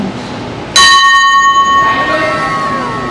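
A single metallic bell is struck once, ringing out bright and clear before slowly fading over a few seconds.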